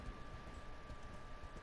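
Horse hooves in the video game Darksiders Genesis clop in a quick, steady galloping rhythm, soft and fairly close over a faint constant tonal hum of game music.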